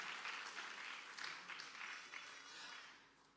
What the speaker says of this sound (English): Now clap the hands if you are understanding.